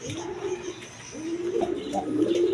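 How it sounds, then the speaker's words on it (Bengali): A pair of Rasgolla pigeons coo softly and steadily, with low rolling calls close by and no voices. "এইখানে এক পেয়ার রাসগোল্লা কবুতর আছে দেখেন কোয়ালিটি সম্পন্ন কবুতর"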